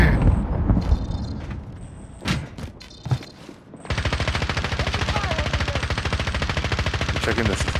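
Gunfire in Call of Duty: Modern Warfare, scattered heavy shots and thuds, then a long, loud, continuous machine-gun burst from about four seconds on, with shouting players mixed in.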